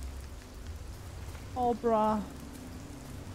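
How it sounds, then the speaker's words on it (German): Steady, soft rain hisses throughout a night scene in the horror video game Fears To Fathom, with a short spoken exclamation breaking in over it midway. "Ich wurde vom Regen pitschnass."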